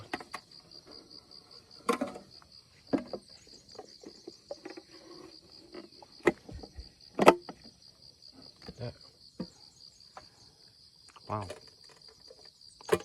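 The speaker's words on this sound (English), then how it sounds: "Cicada and the little grasshopper are here, bro." Cicadas and small grasshoppers chirp outdoors in a steady high-pitched drone, with sharp clicks and rustles scattered throughout and brief exclamations from a person nearby.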